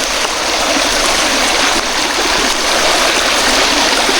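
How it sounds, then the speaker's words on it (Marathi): A forest stream on the trail to Mahadgad Fort near Nagpur flows and gurgles steadily, a close, continuous rush of water with no talk over it. "सुंदर असा हा पाण्याचा आवाज"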